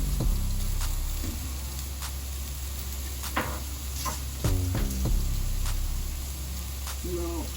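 Ground turkey sizzling and frying in a pan with Creole poultry seasoning, a steady close crackle with occasional scraping stirs and knocks of a utensil.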